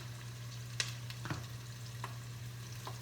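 Food sautés quietly in a pan for a tuna casserole: a faint, soft sizzle under a steady low hum, with a few light clicks and scrapes scattered through.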